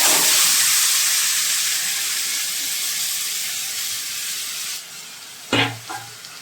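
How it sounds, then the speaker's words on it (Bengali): Meat tipped into a dry, oil-free hot karahi sizzles loudly with a steady hiss that slowly fades, followed by a few clanks of a utensil against the pan near the end. "মাংসটা কিন্তু আমি শুকনো কড়াইয়ের মধ্যে ঢেলে দিলাম"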